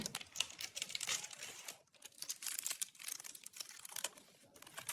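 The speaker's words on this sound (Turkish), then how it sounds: "Bakalım bunu açalım nasıl bir çikolata çıkacak" A foil wrapper is pulled off a surprise chocolate egg, close crinkling and crackling in quick irregular bursts with short pauses, fairly faint and with no talking.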